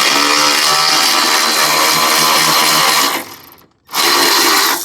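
A hand tool loosening the terminal clamp on an old car battery makes a loud, continuous whirring, buzzing mechanical drone up close that cuts out briefly near the end, then resumes.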